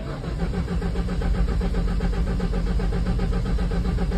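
A Ford Thunderbird engine being cranked over without catching, a loud steady rhythmic churning of the starter that runs on without firing, with no voices over it.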